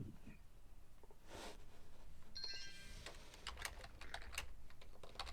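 A computer keyboard is typed on in quick, irregular bursts of clicking keys, faint against a low background hum, with a brief tonal chime partway through and no talking.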